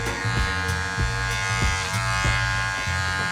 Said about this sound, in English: The clipper that I'm using today is a cordless Wahl Magic Clip.